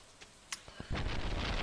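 Rain in the video game Stardew Valley starts after a few faint clicks and pops, then becomes a steady, loud, broadband hiss that fills the rest of the moment.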